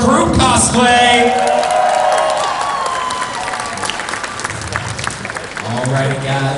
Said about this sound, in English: Another round of applause for our group cosplay.